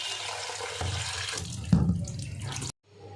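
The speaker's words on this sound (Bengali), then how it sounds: "মাছ ধুয়ে নিয়েছি" Tap water runs into a sink as fish are washed under it, a steady splashing stream that grows heavier midway and then stops abruptly near the end.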